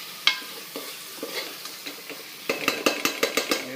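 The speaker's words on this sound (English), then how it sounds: "mix it well, be careful, do not break the paneer" Paneer cubes and capsicum get stirred in a pan while cooking for a Hyderabadi paneer biryani, with a quiet sizzle and then a burst of rapid, close metal scrapes and clinks from the spoon against the pan.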